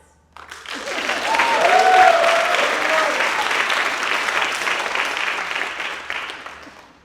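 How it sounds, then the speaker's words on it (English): An audience at a senior one-act play performance bursts into applause for the actors. The clapping swells quickly, holds full and loud, then gradually thins out, with a voice and a few calls rising over it early on. "Can we give a round of applause for actors playing two characters at once?"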